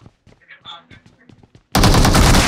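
Gunfire in the battle royale video game BGMI erupts as a dense, loud burst of rapid automatic shots after a stretch of quiet clicks and small game sounds.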